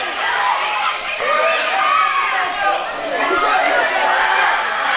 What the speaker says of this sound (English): The crowd getting fully behind Kaz